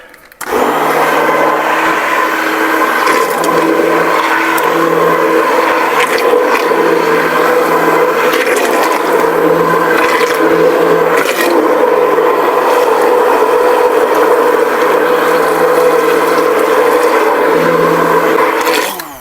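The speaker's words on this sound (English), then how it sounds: "let's finish blending this" A kitchen blender whirs through potato leek soup in one loud, sustained run, a steady motor roar close by that starts abruptly and holds evenly before cutting off at the end.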